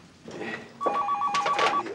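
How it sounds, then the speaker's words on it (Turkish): A telephone rings at a taxi stand office in an old Turkish TV series, giving one sharp electronic trill burst after a short rustle. It is close and clear, with no talking. "Telefon çalıyor."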